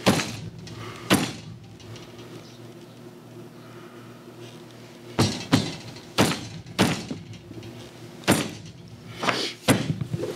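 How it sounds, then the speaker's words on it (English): A half inch bag punch is hammered through leather on a block while making a kidney bean purse, giving several sharp, loud thuds in small clusters, some doubled, with quiet gaps between them. "I'll take my half inch bag punch here and I will just go ahead and punch those holes"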